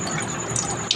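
Running tap water gushes steadily while raw chicken breast is rinsed under it, a continuous close hissing splash with a brief clatter near the end.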